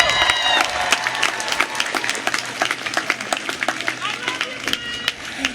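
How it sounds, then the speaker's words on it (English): Graduates and families at a Stetson University College of Law commencement ceremony clap loudly together, dense applause with scattered sharper claps and crowd murmur throughout, plus a faint whistle-like tone early on. "Now I'd like to see if you can find your people in the audience and give them a round of applause."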